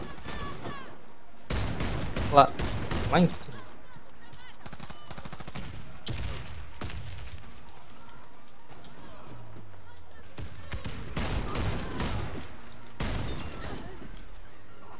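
Shotgun fire from a Fabarm S.A.T. 8 Pro Gold in the online shooter Warface on the Hangar map, with several bursts of loud shots and bursts of gunfire spread through the match, while a player talks over the action.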